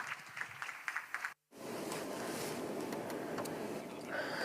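Audience applause for speakers invited onto the stage at an open dialogue on AI, digital security and smart cities; after a brief silent gap, dense, steady clapping continues throughout, fairly faint and distant.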